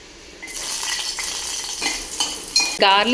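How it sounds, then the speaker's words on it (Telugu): Garlic fries in a little hot oil in a pan, a steady close sizzle with stirring scrapes and a brief clink of utensils near the end. "సో కొంచెం ఆయిల్ హీట్ అయ్యాక గార్లిక్"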